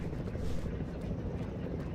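Helicopter in the Jurassic World Evolution 2 game, a steady low rotor rumble with a dense, continuous drone heard in the background.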